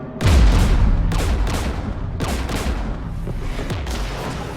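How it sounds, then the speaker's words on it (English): Gunfire in the sci-fi shooter Mass Effect 3 during a battle beside a Geth jamming tower: repeated heavy, booming shots with long echoing tails, loud and close, spaced about a second apart, with no voices. "We're taking fire."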